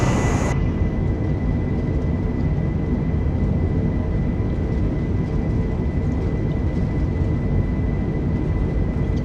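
Steady airplane engine drone in Microsoft Flight Simulator 2020 at the DFW field before takeoff, a continuous loud broadband roar with a faint tonal whine, unchanging throughout.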